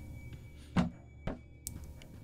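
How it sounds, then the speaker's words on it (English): A book hurled at a spider in the game Kill It With Fire lands with a dull thunk, followed by two more softer impacts over a low ambient hum. "Throw a book at him."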